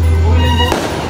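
A single firecracker bursts at a New Year celebration, a sharp crack cutting through a loud, dense wash of crowd and ambient noise.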